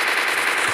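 An MP40 submachine gun fires in a video game, a loud, rapid, unbroken automatic burst with slight echo, alone and without talk, over a very short moment.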